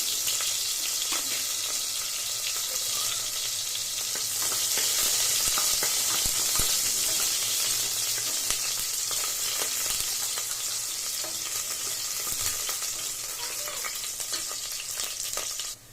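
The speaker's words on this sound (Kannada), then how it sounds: "ಈ ಎಣ್ಣೆ ಕಾದಿದೆ ಸೊ ನಾನು ಕಟ್ ಮಾಡಿ ಇಟ್ಕೊಂಡೆ ಒಂದು ಚಿಕ್ಕ ಈರುಳ್ಳಿನ ಹಾಕ್ತಾ ಇದ್ದೀನಿ ಒಗ್ಗರಣೆಗೆ" Steady, loud sizzling of onions frying in hot oil on a low flame, a continuous crackle that fills the whole stretch with occasional stirring scrapes and no talking.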